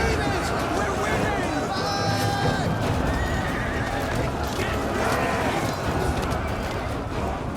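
Horses neighing and whinnying amid hoofbeats and battle noise in the video game Rome 2 Total War, several loud whinnies over a dense, continuous din of clashing and crowd babble.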